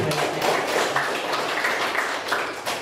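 Classroom of students clapping together during a mathematics lesson, a dense, continuous patter of many hands that stays fairly loud and steady throughout.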